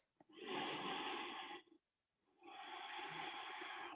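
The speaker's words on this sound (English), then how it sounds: "2 more deep, long breaths." Two long, deep breaths in a yoga class, each an airy, steady rush of about one and a half seconds, close and clear, with a short silent pause between them.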